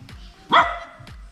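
A dog barks once, loud and close, by a river at an outdoor cooking spot, with quiet background noise before and after the bark.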